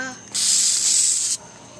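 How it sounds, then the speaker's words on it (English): Spray paint hisses onto a child's hair in one steady burst lasting about a second, loud and close, with faint background noise before and after. "I want to spray paint myself."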